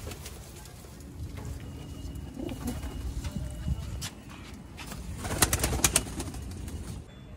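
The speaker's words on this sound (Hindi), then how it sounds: "और ये कबूतरी देख" Soft pigeon coos, including Hyderabadi pigeons, murmur through a noisy outdoor background, with a brief louder burst of activity near the end.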